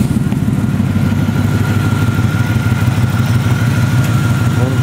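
A 1994 Buick Roadmaster sedan with a loud aftermarket exhaust idles close by, a steady, deep rumbling burble with an even pulsing rhythm throughout.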